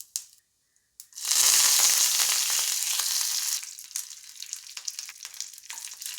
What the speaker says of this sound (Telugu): పాన్ వేడిన తర్వాత 1 స్పూన్ ఆయిల్ వేసుకొని చిటికెడు ఆవాలు, చిటికెడు జీలకర్ర వేసుకోవాలి